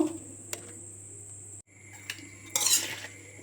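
Raw mango pieces tossed together with spices for a mustard-oil pickle, soft scraping and stirring against a metal bowl with light clinks, close and fairly quiet, rising briefly near the end.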